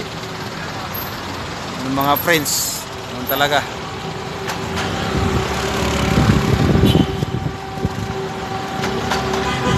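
Congested road traffic in Manila, with engines idling and rumbling, a vehicle passing, and short horn-like tones, while people talk over the noise throughout.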